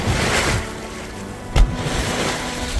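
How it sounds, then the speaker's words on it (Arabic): Water bursting up from underground at Chabrouh dam in Faraya, Lebanon, a steady broadband rush mixed with wind buffeting the microphone, with one brief thump partway through. "شايفين كيف المي عم تتفجر من تحت الأرض وراي؟"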